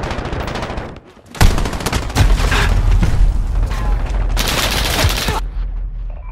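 Sustained automatic rifle fire in Call of Duty: Modern Warfare multiplayer, a dense loud burst of rapid shots with booming impacts filling most of the stretch, briefly pausing near the start before resuming.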